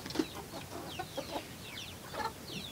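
Hungry young roosters and hens clucking in short, scattered bursts, with a few higher chirps among them, fairly close and moderately loud.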